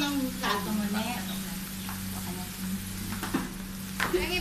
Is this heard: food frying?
yes